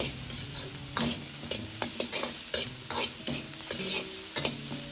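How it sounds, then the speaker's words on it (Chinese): Soaked Sichuan peppercorns stir-fried in a wok with oil for dry-fried pork intestines, a steady sizzle under repeated scraping strokes of a spatula at a brisk, uneven rhythm, close and fairly loud. "再倒入浸泡过的花椒，炒出麻香味。"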